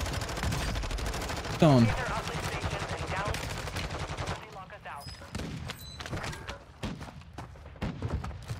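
Rapid gunfire from a Grau 5.56 rifle in a video game, dense bursts and thuds running continuously under a voice, loud and close throughout.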